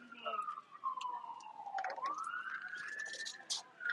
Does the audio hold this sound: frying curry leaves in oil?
no